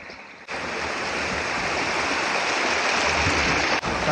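A mountain bike splashes into a stream on a trail, and a sudden loud, broadband rush of churning water follows, holding steady for several seconds before a brief break near the end.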